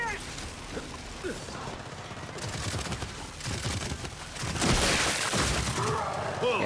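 Heavy weapon fire in Gears 5 Horde mode: sustained dense, rattling gunfire with booming impacts and shattering debris that builds louder toward the end, under the game's other action sounds.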